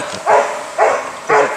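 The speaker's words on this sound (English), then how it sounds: "So this is a pretty big team of dogs" Team of sled dogs on an Alaska mushing excursion near Skagway, three loud close barks evenly spaced, with no talking between them.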